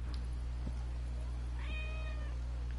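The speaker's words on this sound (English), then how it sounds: "Was that the kitty?" A cat meows once in Assassin's Creed Origins, a short rising-and-falling meow that is fairly faint against a steady low ambient hum, with a couple of soft taps before it.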